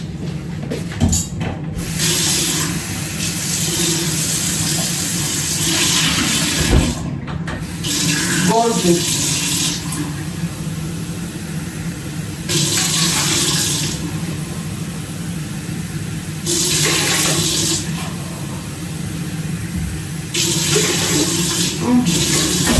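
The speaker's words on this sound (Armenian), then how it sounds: "վերցնում եմ այսենց բաժակ ու 3 բաժակ ջուր եմ լցնում" Water runs and splashes steadily into a mixer bowl for pizza dough with yeast, in several separate pours, with brief pauses between them and a short spoken word.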